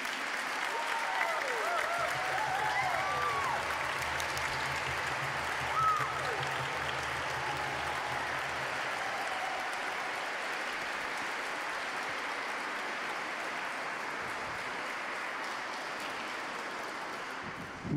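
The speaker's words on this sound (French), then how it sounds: "On peut les applaudir quand même." A church congregation applauds steadily for children preparing for their first communion, a dense wash of clapping hands filling the space at a fairly constant level for the whole stretch, with a few brief voices mixed in early on.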